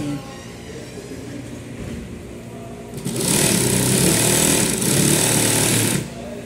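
Sewing machine stitching the waistband of a trouser, starting as a softer whir, then running loud and steady for about three seconds as a fast, dense mechanical chatter, close up, before easing off again.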